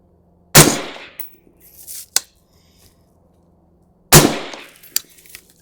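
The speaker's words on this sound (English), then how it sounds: "Hopefully we don't bump fire the whole mag again." Two loud, sharp rifle shots from an LMT 12.5-inch SPECWAR carbine firing Norma 69 grain ammunition, about three and a half seconds apart, each with a short decaying echo and a few faint clinks between them.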